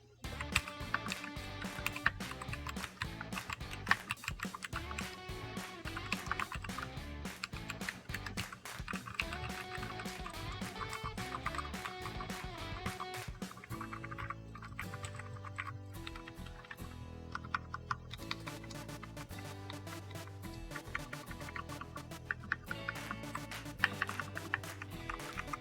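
Someone types on a mechanical keyboard modded with lubed switches and sound dampening. Close, rapid, continuous keystrokes clack for the whole stretch, with denser bursts and brief pauses and no talking.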